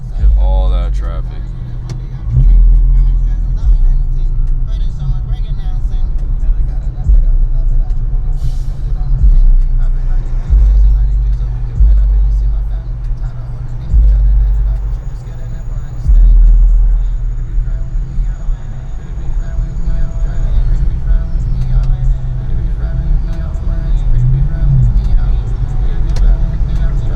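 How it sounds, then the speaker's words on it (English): Inside a 2021 Infiniti Q50 on a freeway at night, steady road and engine rumble with swelling whooshes of nearby traffic, while someone talks intermittently over it. "Look at all that traffic."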